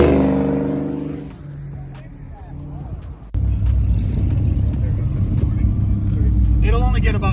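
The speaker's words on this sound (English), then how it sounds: "It's not a donut party if an old Mustang ain't trying to go crazy." An old Ford Mustang at a car meet donut session, engine revving hard and loud with a roaring, sustained rumble after a quieter opening, crowd voices and talk mixed in.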